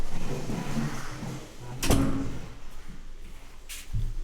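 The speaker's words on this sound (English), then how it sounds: "So I'm gonna close my door real quick." A door in a room is shut, giving a single firm thud midway, followed later by a fainter knock, over quiet room noise with no talking.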